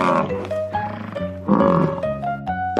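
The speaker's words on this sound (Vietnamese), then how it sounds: "Bison." A bison gives low grunting, bellowing calls in a few short bursts over background music, loud and close.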